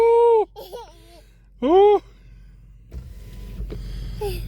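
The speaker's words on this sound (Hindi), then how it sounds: "हाँ शीशा खुल गया, शीशा।" A car's electric power window motor whirs in two short, loud bursts with a pause between, followed by faint road and cabin noise and brief voices at the end.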